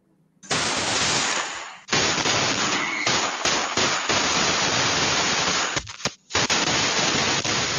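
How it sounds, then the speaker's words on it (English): Rapid bursts of gunfire erupt outside homes in a residential neighborhood early on a Sunday morning, loud and sustained with crackling volleys and brief pauses, no talking. "Neighbors watching and listening in horror as gunfire erupted outside their homes early Sunday morning in Green Valley Ranch."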